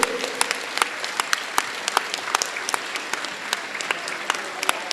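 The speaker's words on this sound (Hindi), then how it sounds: "ताली बजाते रहिए, हाथ ऊपर उठा के ताली बजाइए।" Audience at a Jain community gathering claps with hands raised, a dense steady stream of applause with sharp individual claps standing out, sustained and fairly near throughout.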